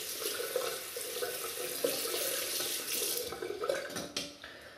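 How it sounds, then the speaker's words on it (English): Water runs steadily from a tap into a sink, a close splashing stream that cuts off near the end. "So I just dip the brush again under the water."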